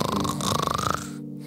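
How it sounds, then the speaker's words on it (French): Deep sleep snoring rasps in a rapid, rattling rhythm, loud and close, in a cartoon scene, then briefly cuts to quiet. "Même les cris ne l'empêchaient pas de ronfler."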